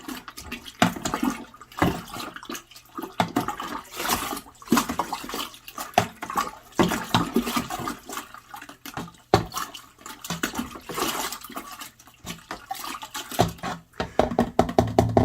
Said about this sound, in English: give our strawberry juice mixture a nice, good, vigorous stir